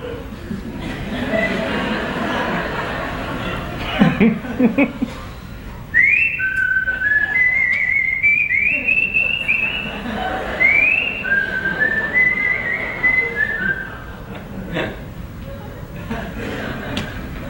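A person whistles a wavering, tuneful melody in several phrases, with chuckling and background voices underneath.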